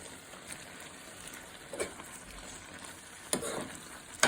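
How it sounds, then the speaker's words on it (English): Onion and fresh tomato fry quietly in oil, a faint steady crackle with a couple of louder bursts of sizzling and stirring, fairly soft overall. "Put a little bit oil and fry onion in there and put a fresh tomato."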